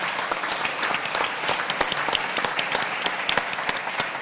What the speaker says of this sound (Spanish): ¿Le damos el aplauso o no?